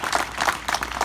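An audience at a Hindi kavi sammelan poetry recital claps, a brief burst of loose, overlapping hand claps that rise and fall in quick waves.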